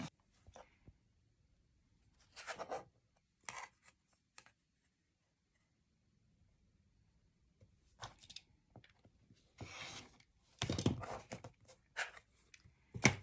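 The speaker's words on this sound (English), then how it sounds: "I set my ruler to 1 1/4 and just slice them in each direction" Rotary cutter slicing fabric squares against a ruler, heard as a few quiet, scattered cutting strokes and clicks with long silent gaps between them.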